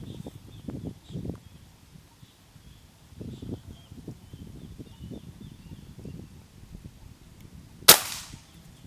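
A Predator 500cc PCP air rifle fires a single sharp shot at a target near the end, loud and close, after low rustling and handling noise.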